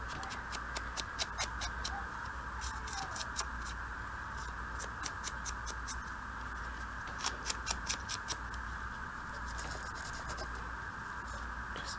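A paper coin envelope is roughed up and distressed by hand, giving repeated crisp scratching and scraping strokes in short bursts over a steady background hum.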